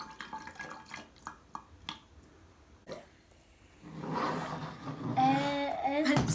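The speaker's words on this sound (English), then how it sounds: "we are gonna pour the water to about right there" Water poured into a bottle for a homemade lava lamp, a faint gurgling trickle building in the latter half after scattered small knocks and taps.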